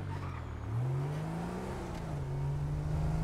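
A car engine drones steadily while driving in GTA 5, its pitch rising as the vehicle accelerates and then holding at a constant rumbling whir, close and alone with no talk.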